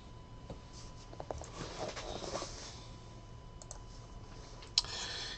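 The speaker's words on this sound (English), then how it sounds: "All right, 5 clicks." Mouse clicks during an online randomizer for a sports card break, a few scattered light clicks and taps, close and quiet, ending with a sharper click and brief rustle.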